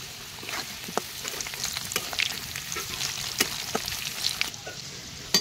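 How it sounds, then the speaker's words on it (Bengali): Potatoes frying in hot oil for biryani, a continuous crackling sizzle with sharp pops and occasional stirring scrapes, close up, with no one talking. "এই আমরা বিরিয়ানি আলু আমার ভাজা হয়ে গেছে।"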